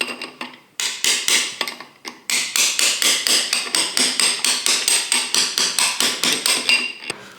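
A part is hammered into a 1979-1984 Harley-Davidson four-speed rotary top gearbox during a rebuild: about twenty sharp, close metallic hammer blows in a steady, quick rhythm after a few scattered opening taps, with no talking.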